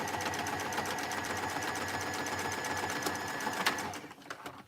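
A sewing machine stitches a fabric hem with a steady, close mechanical whir running continuously, then stops near the end, leaving a few light handling clicks.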